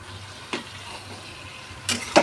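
Soybean chunks go into a pan of tomato, cumin, ginger and green chilli masala, frying with a low, continuous sizzle broken by a few sharp stirring clatters toward the end.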